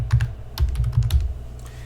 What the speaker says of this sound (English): So if I type in a title